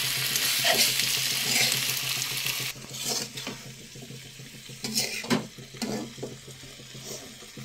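Bottle gourd leaves frying in a pan with a steady sizzle and occasional stirring scrapes, loud at first and then quieter after about three seconds, with a few louder bursts; no voices.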